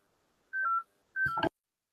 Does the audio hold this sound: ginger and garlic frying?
no